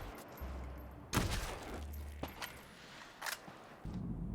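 Gun fitted with an electric bullet attachment firing in the video game Dead Island 2, several sharp, faint shots spaced irregularly over low ambient game sound.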